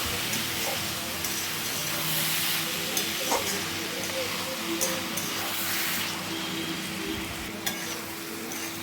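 Boiled banana flower being fried and stirred in a pan, a steady sizzle with scraping and stirring clatter running throughout, close and fairly loud, with no voices.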